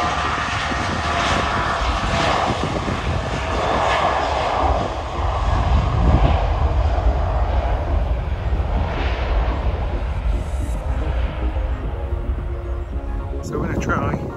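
A loud jet engine roars steadily and swells as an airplane takes off from Stansted Airport, the broad rumble filling the scene with some faint voices underneath.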